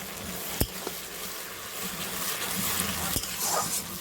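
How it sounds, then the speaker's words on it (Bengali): Chicken kasa with tomato and a splash of water sautés in a pot over a clay stove, a faint steady sizzle punctuated by two sharp spoon-on-pot clacks, with no voices. "টমেটোটা দিয়ে আবারও খুব ভালোভাবে কষিয়ে নেব।"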